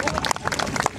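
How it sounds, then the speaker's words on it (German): An audience applauds at an amateur Snow White fairy-tale stage performance, a brief burst of dense, steady clapping from many hands, close and fairly loud. "Applaus"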